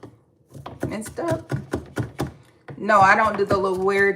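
Knife mincing food on a cutting board during a live home cooking stream, a run of sharp rhythmic chops at close range, followed by a person talking over the board.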